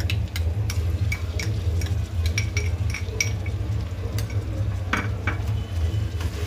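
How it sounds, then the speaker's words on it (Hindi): Fried potatoes in a pan as ginger-garlic paste goes in and a spoon stirs, with a low sizzle beneath repeated metallic scrapes and clinks against the pot for masoor pulao. "अब डालेंगे हम ये अदरक लहसुन का पेस्ट"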